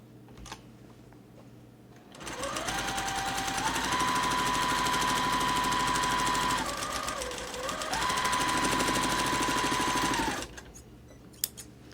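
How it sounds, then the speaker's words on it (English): A sewing machine stitches two quilt squares, laid right sides together, along a drawn diagonal line for a sawtooth star block. Its motor whirs steadily for about eight seconds, dipping briefly in pitch midway, with no talking. "stitch again on that diagonal line that I've drawn"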